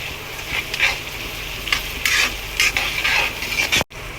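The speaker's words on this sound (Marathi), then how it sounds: "आता त्याच्यानंतर आपण टोमॅटो टाकून देऊ टोमॅटो पण आपण त्यामध्ये फ्राय करून घेऊ" Onion and tomato fry in a pan with a little salt, giving a steady close sizzle broken by repeated bursts of stirring and scraping, then a sudden brief cutoff near the end.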